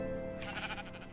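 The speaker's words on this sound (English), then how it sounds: "we'll just kill these sheep for right now" A sheep in the video game Minecraft lets out a single wavering bleat about a third of the way in, heard over a steady tonal background hum.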